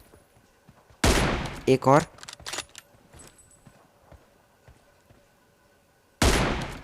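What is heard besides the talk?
gunshots in the video game PUBG Mobile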